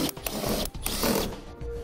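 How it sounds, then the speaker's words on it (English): A 10mm socket works the bolts loose on the undershield of a 2019 Toyota Sienna, giving a loud, steady mechanical whirring and rattling with brief dips, close by and with no talk. "There are 5 bolts across the back that we're going to remove using a 10mm socket."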